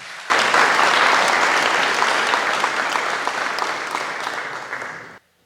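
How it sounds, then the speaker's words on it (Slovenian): A burst of loud audience applause at a men's choir concert starts abruptly, holds steady for several seconds, then cuts off sharply. "Še en aplavz za povezovalca."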